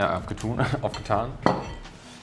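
Plates, pots and cutlery clink and clatter close by as food such as cucumber salad is served up in a kitchen, a run of sharp metallic and ceramic knocks with brief talk mixed in.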